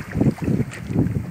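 Wind gusting across open water during a sardine-baited fishing trip, a low rumbling buffet that swells and fades in uneven pulses close to the microphone, with no talking.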